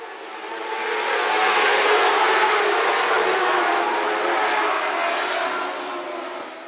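Dwarf race cars roar past at Phillips County Raceway during the Riverside Rumble feature, a broad engine wash that swells in as the pack nears, holds loud and steady, then eases slightly at the end.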